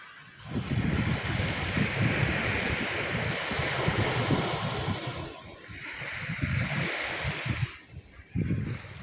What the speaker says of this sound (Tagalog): para bang sa pakiramdam ko ay wala nang ibang musika pa na mas gaganda sa tunog ng hampas ng mga alon